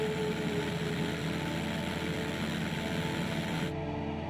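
A NASA research airplane from Glenn Research Center flies over a lake thick with a green cyanobacterial bloom, its propeller engine drone steady and loud throughout before cutting off abruptly near the end.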